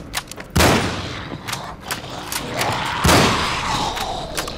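Gunfire in the video game Cryostasis: two heavy, booming shots stand out about two and a half seconds apart over a busy background of clanks and thumps, with several smaller sharp cracks scattered around them.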